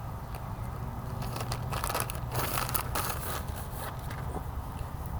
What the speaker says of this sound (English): If I can figure out how to get it open. It's in this plastic bag.